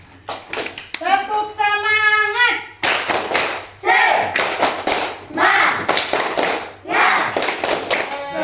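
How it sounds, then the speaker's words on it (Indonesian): Children in a fifth-grade classroom perform a rhythmic clapping chant, with patterned bursts of claps and thumps alternating with sung and chanted voices, close and loud throughout. "Coba tepuk semangat dulu, tepuk semangat."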